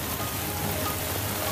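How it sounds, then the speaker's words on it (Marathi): Heavy rain pours steadily over Thoothukudi, Tamil Nadu, a dense, continuous hiss of drops drumming on surfaces, close and even throughout with no voices. "तामिळनाडूमधील तुटुकुडीमध्ये पहाटेपासून मुसळधार पावसानं हजेरी लावली आहे"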